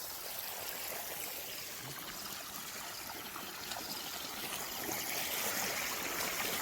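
Irrigation water running through a farm field at night, a faint continuous trickling stream with a soft hiss that swells slightly toward the end, no voices.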